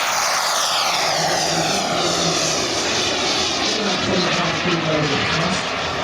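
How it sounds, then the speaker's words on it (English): Beotech 220 jet turbine powering a 1/3 scale RC L-39 Albatros, a loud continuous roar with sweeping whine as the model passes, steady throughout. "Beotech 220 jet turbine"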